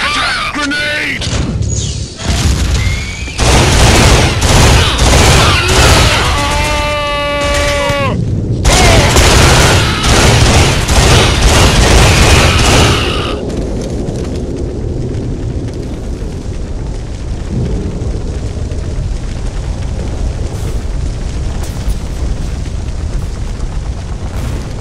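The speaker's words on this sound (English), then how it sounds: "Grenade! Contact! Taking heavy fire! Grenade!" Heavy gunfire and grenade explosions in the PS2 shooter Killzone, with dense, loud bursts of rapid shots and booming blasts, followed by lower rumbling battle noise and shouting voices.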